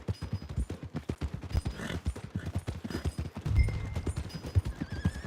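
Horse hooves clip-clop rapidly and a horse whinnies in the Red Dead Redemption 2 video game, steady hoofbeats close up with brief game sound effects mixed in.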